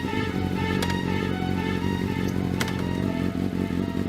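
A cartoon motorcycle rides along with a continuous engine drone, joined by a couple of sharp clicks or clatters along the way.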